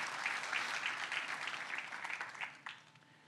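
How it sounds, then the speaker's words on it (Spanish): Congregation at a church service applauding together, a steady sustained clatter of many hands that thins and tapers off toward the end, with no talking over it. "Le puede dar un fuerte aplauso a Dios por eso."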